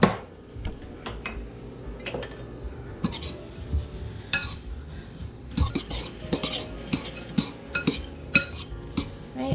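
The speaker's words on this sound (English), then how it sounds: "go ahead and mix that together" Homemade granola ingredients being mixed together in a bowl, with scattered clinks and scraping stirs of a utensil, close and fairly quiet, no talking.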